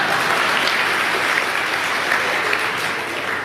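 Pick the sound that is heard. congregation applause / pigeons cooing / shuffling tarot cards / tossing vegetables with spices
congregation applause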